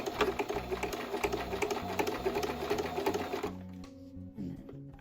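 Sewing machine backstitching a fabric scrunchie seam: a steady, close mechanical whirring with rapid needle clatter that stops abruptly near the end, leaving faint handling sounds.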